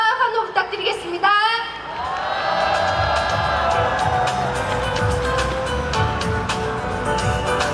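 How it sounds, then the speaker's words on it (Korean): A crowd at an Incheon candlelight protest rally breaks into loud, sustained cheering and applause after a brief spoken introduction, filling the space steadily to the end. "큰 박수와 환호 부탁드리겠습니다."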